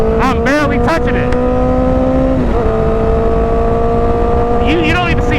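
A 1000cc motorcycle engine on light throttle holds a steady, loud drone with a few small blips in pitch, under continuous close road and wind noise.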